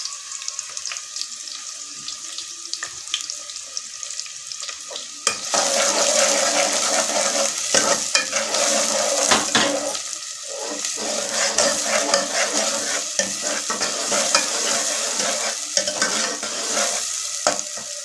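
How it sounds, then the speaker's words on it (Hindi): Onions dropped into hot oil in a degchi for a white chana curry; a loud, continuous close sizzle that jumps up after a quieter opening and holds steady with small stirring rustles. "देगची में मैंने ऑयल डाल लिया है, इसको गर्म करेंगे और इसमें जो है प्याज डालेंगे।"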